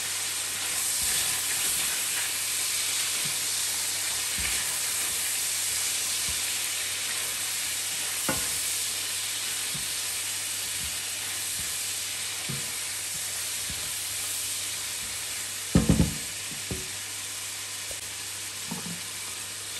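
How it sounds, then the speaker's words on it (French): Shrimp frying in a pan with a pinch of espelette pepper, a constant soft sizzle and hiss throughout, broken by a few sharp utensil knocks and clinks near the end. "Je vais rajouter un petit peu de piment d'espelette. Je viens mélanger tout."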